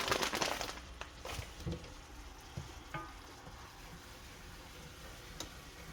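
Flour cooking in garlic butter in a pan for a crab dish: a steady low sizzle, stirred at first and then left with a few scattered ticks and clinks, close and soft, with no talking.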